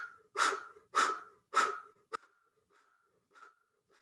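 Forceful mouth breathing during a kundalini yoga breathing exercise: three strong, rhythmic breaths about half a second apart, close and alone, then a sharp short puff and a couple of faint trailing breaths.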